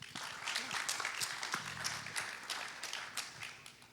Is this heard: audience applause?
yes